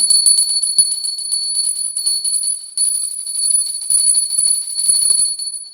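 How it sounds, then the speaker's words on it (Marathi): A large antique brass puja hand bell rings continuously, a bright sustained metallic tone with steady clapper strikes, loud and close with no talking. "या घंटीचा नाद असा आहे आणि माझ्याकडे ही आता मोठी घंटी आहे ही मी अँटिक घंटी घेतलेली होती"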